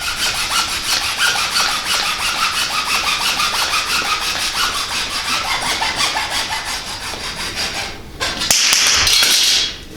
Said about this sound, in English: PVC is super easy to cut. I'll go ahead and cut the first one.